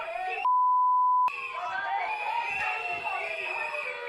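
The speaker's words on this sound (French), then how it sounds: "Alors les bips, c'est sûrement pour des gros mots." A single steady censor bleep of about a second cuts over a rowdy protest crowd of shouting, cheering voices that continue loudly around it.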